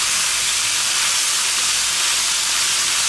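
Meat for homemade gyros sears in a pan, giving a steady, loud, dense sizzle that stays constant throughout with no voices.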